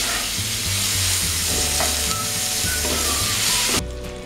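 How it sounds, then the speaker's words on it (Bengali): Chopped onion with whole cumin seeds sizzling in hot oil in a pan, a loud, continuous hiss with occasional scraping stirs, easing slightly near the end. "এবার আমি পেঁয়াজটা দিয়ে দিচ্ছি। পেঁয়াজটা আমি হালকা ব্রাউন কালার করে ভাজব।"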